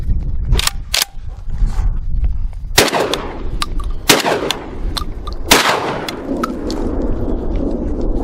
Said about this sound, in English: I'm gonna fire 2 heavy 6-shot loads and then 1 slug